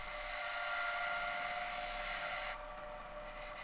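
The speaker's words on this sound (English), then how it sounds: "I've just used the parting tool to make a little groove where I'll separate the top and bottom halves" A parting tool cuts a groove into a small zebrawood jar blank spinning on a wood lathe, giving a steady, close, high-pitched whine that drops off sharply near the end.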